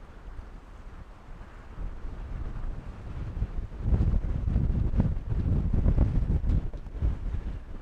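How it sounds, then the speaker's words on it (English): Strong 30-knot wind buffeting a microphone aboard a solo sailboat at sea, a low roaring rumble that swells and grows louder toward the end, with no talk. "It's blowing 30 knots out there right now."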